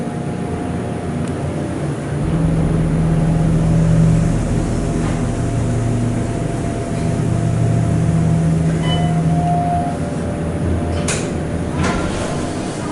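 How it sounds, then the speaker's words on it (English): Otis 211 LVM hydraulic elevator dry power unit motor in a hotel lobby, running through a ride as a steady loud hum with low drone and faint mechanical whine, swelling slightly midway, with brief clicks near the end. "We'll take the ride up to the lobby and listen to the dry power motor."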